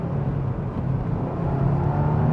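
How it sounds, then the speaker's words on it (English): A 2025 Subaru WRX Premium engine blips and drones during a rev-matched downshift, a steady loud cabin rumble with a slight rise in pitch over the short stretch, no talk. "Rev match downshift."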